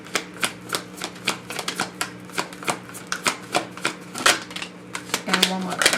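Tarot cards being shuffled in a steady run of quick, crisp riffling bursts, close and repeated, with a voice talking over the shuffling.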